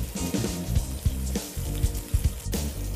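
Honey garlic butter salmon bites sizzle and crackle steadily in a hot pan, a close, continuous frying hiss with scattered pops and soft utensil knocks.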